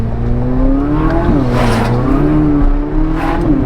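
A Ferrari engine pulling hard on a damp road, a loud, close, sustained roar that rises in pitch through the gears with brief dips at the shifts, with no voices over it.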